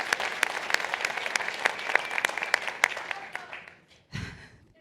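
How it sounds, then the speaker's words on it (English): Rally crowd clapping with a few sharp, close hand claps standing out, tapering off toward the end before a brief noise. "Let's give a round of applause for everyone for who this is their first rally."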